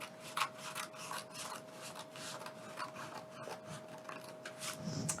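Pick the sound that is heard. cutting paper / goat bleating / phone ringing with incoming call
cutting paper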